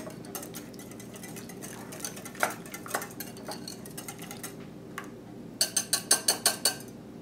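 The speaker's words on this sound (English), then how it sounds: "I'm going to whisk it all together." A whisk clinks rapidly against a bowl of pancake batter, with scattered taps and then a quick run of sharp metallic strikes near the end; close, no speech.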